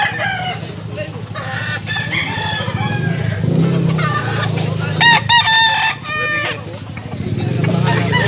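Several roosters crow loudly and close by, their calls repeating and overlapping over steady farmyard background noise, with no talking.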